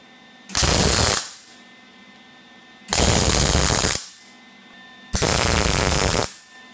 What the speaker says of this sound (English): we're going to weld this in here just to capture the press and keep this more secure to the machine